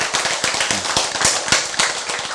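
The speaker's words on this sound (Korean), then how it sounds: "박수." Applause from a church or lecture audience during a talk on healthy eating: a short, loose patter of hand claps with a few sharper claps standing out, fairly close, with no talking over it.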